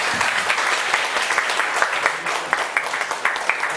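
Audience at a lecture-style reading group session breaks into warm applause, dense overlapping clapping with sharp individual claps standing out, close and steady throughout.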